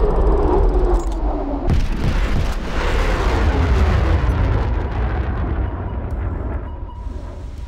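Torpedo launched from the submarine HMS Valiant in War Thunder Mobile: a loud, sustained rumbling rush with deep booming weight that stays heavy for several seconds, no voices over it.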